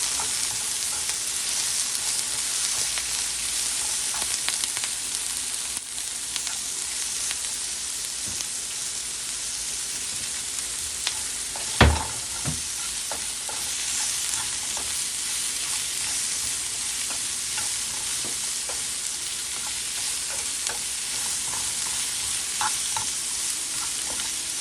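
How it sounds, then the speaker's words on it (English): Onion frying in a pan with a sprinkle of garlic herb seasoning, giving a loud, steady, close sizzle throughout with occasional stirring scrapes and one sharp clatter near the middle, and no talk. "we're just gonna let this let the onion cook for a minute"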